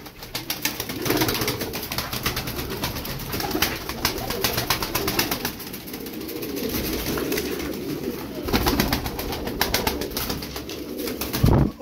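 A flock of twelve tumbler pigeons cooing steadily in a loft, soft throaty calls overlapping close by with some wing rustling and movement.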